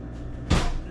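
A drawer full of grip strength gear being opened, one short solid scrape and thump, close and fairly loud over a steady background hum.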